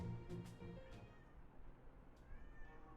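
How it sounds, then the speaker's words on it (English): A cat meows a few times in a visual novel game, short calls in quick succession near the start and then a fainter one later, set over a low ambient background with no speech. "I hear my kitty."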